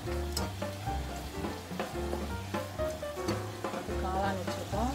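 Mushrooms, green peas and carrots sizzle as they drop into hot oil left over from frying masala vada, a loud, continuous frying crackle with stirring, over steady background music.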